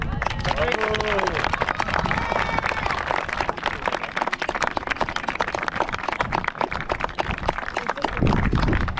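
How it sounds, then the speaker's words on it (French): Sustained applause from an audience at the Château de Breteuil in France, dense clapping filling the whole stretch at a steady loud level, with some crowd murmur mixed in. "Allez, vous pouvez les applaudir."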